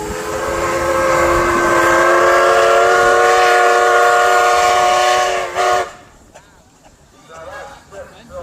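A big South African pipe chime whistle on a steam engine at a steam rally, a loud sustained multi-tone chord blowing for several seconds before cutting off, followed by quieter crowd chatter nearby.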